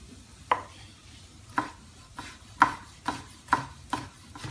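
Fresh, firm cherry tomatoes being chopped with a knife on a board, about seven distinct, evenly spaced thuds at roughly one per second, close and clear with no talk.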